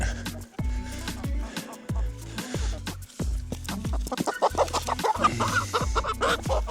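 Repeated low clucking from a black hen comes in a steady series of short calls, with more hurried clucks near the end.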